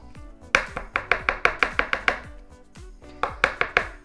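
Quick bursts of a spoon scraping and slapping through zucchini fritter batter with cracked black pepper in a bowl, close and crisp, in two runs of rhythmic strokes with a brief pause between.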